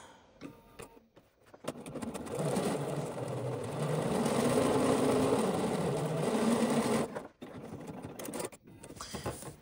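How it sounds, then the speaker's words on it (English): A sewing machine topstitches a quarter-inch line around the curved pocket edge of pants. The motor hums steadily for several seconds, with brief stops near the start and end and no speech. "we're gonna top stitch at 1/4 of an inch"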